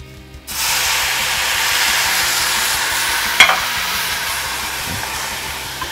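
White wine poured into a pan of risotto rice with mushrooms, setting off a loud, steady broadband sizzle that holds throughout, with a brief sharper hiss and a scrape of stirring partway through.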